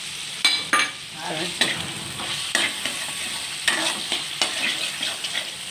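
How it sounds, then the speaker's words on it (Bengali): Chicken mince being stir-fried for khichuri, a steady sizzle in the pan with repeated sharp scrapes and knocks of the spatula in an irregular rhythm, close and fairly loud. "ভালো করে কষিয়ে নেব।"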